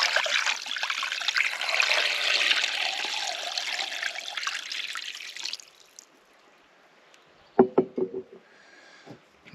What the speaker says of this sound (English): So we fill with fresh water now.